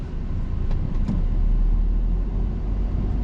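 Learner driver's car pulling away and accelerating in second gear, a steady low engine hum with road rumble heard from inside the cabin, continuous and moderately loud throughout.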